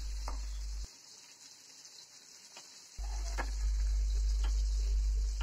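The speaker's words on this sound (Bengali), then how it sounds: "এখানে একটু মাছ ভেজে নিলাম" Fish frying in hot oil in a home kitchen, a soft steady sizzle with faint ticking spatters that drops out briefly and then returns louder, heard alone without talk.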